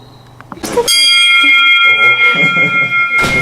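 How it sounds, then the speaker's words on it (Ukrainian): A bell rings out loudly and close to call people to lunch, clanging with a long, bright ringing tone that lingers, then strikes again at the end. "На обід усіх скликає дзвін."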